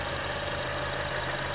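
The radiator fans of a Honda CR-V run with the A/C compressor engaged, giving a steady mechanical hum and whir with a low drone underneath, close and even, with no voices.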